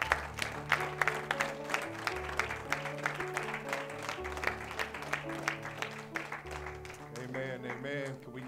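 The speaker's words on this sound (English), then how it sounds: "throw the hand clap of praise" A church congregation claps along in a praise service, rhythmic hand claps landing over a steady musical backing with bass and keyboard notes, fairly close and sustained until the music shifts near the end.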